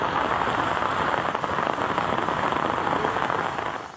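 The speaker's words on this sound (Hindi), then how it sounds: "कहीं तेज तो कहीं हल्की बारिश का सिलसिला जारी है" Heavy monsoon rain pours down in Jhelum, a dense, steady hiss of drops hitting surfaces that stays loud and even throughout.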